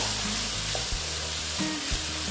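Cumin seeds frying in oil in a pan over lowered heat give a steady close sizzle with crackling pops and a few brief knocks, with no talking.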